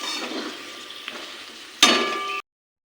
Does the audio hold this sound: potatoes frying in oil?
yes